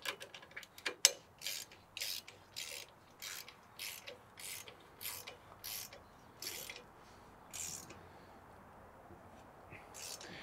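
A clamp on the arm of a car camera rig is tightened with a ratchet, giving quiet, steady clicks at an even pace that slow and fade toward the end.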